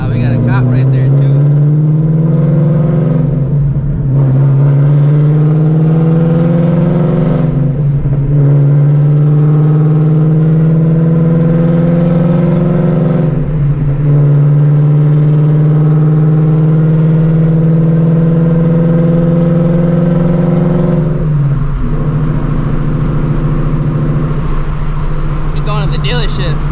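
Another car accelerates at a traffic light, heard from inside a 900hp Shelby GT350 whose loud engine drones steadily throughout, with rising and falling rev sweeps and occasional shifts, while a person talks over it.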